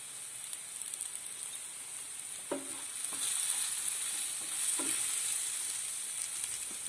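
Masala sizzles and fries in a pan for an egg-and-bread snack, a steady hiss broken by a few soft scraping stirs, close and alone.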